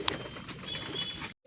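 Pigeon wings beat in a quick, close flurry as the bird flies off from a landing stand, lasting just over a second before stopping abruptly.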